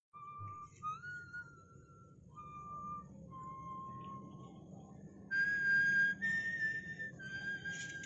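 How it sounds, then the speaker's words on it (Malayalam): A person whistles a wandering tune in short separate phrases, close and clear over a faint low background, the notes growing louder and sustained near the end. "ആരാ ഇവിടെ ചൂളമടിക്കുന്നത്?"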